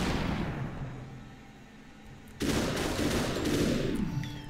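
Gunfire from the time-bending shooter game SUPERHOT: a faint shot trails off at first, then a loud burst of shots and crackling impacts breaks out and sustains for about two seconds before easing.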